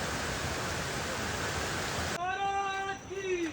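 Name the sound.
waterfall water roaring at Rangana fort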